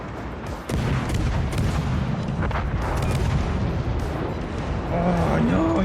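Torpedo blasts in a naval warfare game, deep rumbling booms rolling under a steady loud wash of battle noise, the impacts merging into a continuous heavy roar rather than distinct hits.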